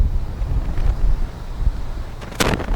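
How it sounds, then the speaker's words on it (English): Strong wind gusting across an open golf course, buffeting the microphone with low rumbling bursts throughout and a sharp, louder blast near the end; no talking. "Wow, it's windy."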